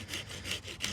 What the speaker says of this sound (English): Saw it off a little bit further down the line here